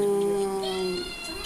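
A ninth-generation kitten lets out one drawn-out, high, tonal meow close by that lasts about a second and then trails off into quiet.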